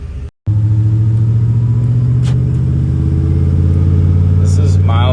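A 2002 GMC 2500HD pickup with an 8.1-litre V8, Allison transmission and Flowmaster 50 series cat-back exhaust idles with a loud, steady low rumble after a brief cutout, holding a deep drone throughout.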